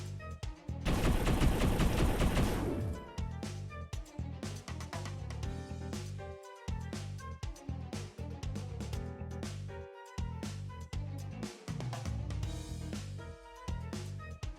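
Video-game gunfire rattles in fast bursts, opening with a dense, loud volley before settling into choppy, stuttering fire that is broken by short silent gaps and layered over game music.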